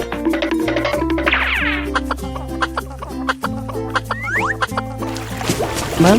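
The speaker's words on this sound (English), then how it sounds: "Chicken." Cartoon chicken clucking in quick, busy bursts over playful background music, with a squawking rise partway through, close and loud.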